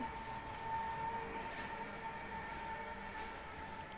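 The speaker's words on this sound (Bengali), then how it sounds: "আমরা চলে এলাম ট্রেন চড়তে।" A park ride train rumbles along steadily with a constant mechanical drone and a faint whining tone, loud and close throughout with no talking.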